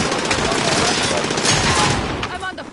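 Rapid machine-gun bursts in a Call of Duty match, dense and loud, rattling continuously for a few seconds with overlapping shots close by.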